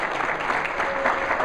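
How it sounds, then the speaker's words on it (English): An audience at a meeting gives a round of applause, a brief, fairly loud burst of many hands clapping steadily, with no voices over it. "Let's give him a round of applause."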